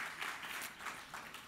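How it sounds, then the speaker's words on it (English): Audience applause at an inspirational talk event: a short, steady wash of clapping from a crowd, fairly faint and continuous, with no voices on top. "One more round of applause, actually."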